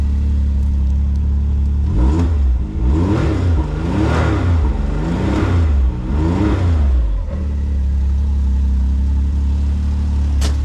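Jeep Wrangler 392 V8 engine revved hard in a series of four or five loud, close blips between idle stretches, each rising and falling sharply before settling back to a steady rumbling idle.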